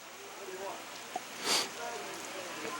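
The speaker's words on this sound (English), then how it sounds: "Rain coming down pretty good here." Rain falls steadily on a Teener League baseball field, making a continuous soft hiss with a brief louder burst midway, under faint voices.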